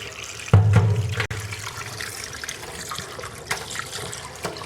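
Chicken pieces coated in turmeric, masala and chili powder are rinsed under a running kitchen tap, with a burst of gushing water at the start easing into a steady splashing stream that carries on to the end.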